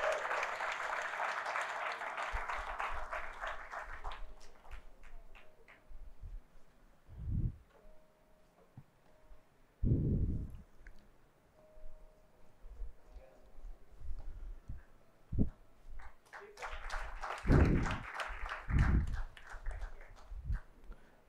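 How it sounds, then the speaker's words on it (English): Applause breaks out at a civil services exam toppers' congratulation event, honouring a UPSC CSE 2021 topper ranked 146th in India. A full burst of clapping opens the stretch and another swells near the end, with talk and scattered thumps in between. "a huge round of applause for Mr."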